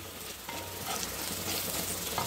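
Garlic, cumin and pepper sauté in a pan on low heat, a soft constant sizzle with light stirring scrapes close by and no talking.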